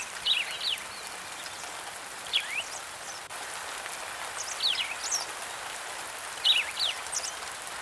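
Steady rain patters on surfaces at a wetland bird sanctuary, with several bird calls chirping faintly in the background.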